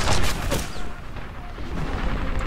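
Sniper rifle shots in a Medal of Honor Airborne-style game mission, Operation Husky, a couple of sharp loud cracks with booming tails over background battle noise.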